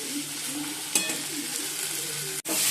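Spice paste fries in a pan while being stirred for a fish curry, a steady close sizzle with scraping strokes of a utensil and a brief clunk near the end.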